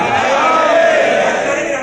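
A crowd at a majlis, a Shia religious mourning gathering in Kuwait, chants religious slogans together in a loud, sustained roar of many voices that lasts the whole stretch.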